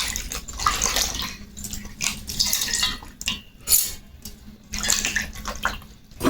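Pieces of ash gourd being washed by hand in water to rinse off lime for murabba: irregular splashing and sloshing with running water, moderately close, with no voices.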